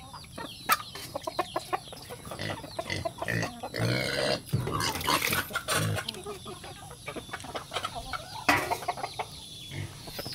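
Farm animals in a yard: pigs grunt and squeal amid clucking chickens, with scattered bursts of noise, fairly close.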